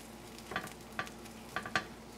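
Onion and mozzarella cook on a frying pan during grilled cheese preparation, giving a faint, steady sizzle broken by a few soft stirring scrapes.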